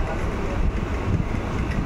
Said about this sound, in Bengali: ছাড়লো আমাদের 2 নম্বর প্ল্যাটফর্ম থেকে ট্রেন।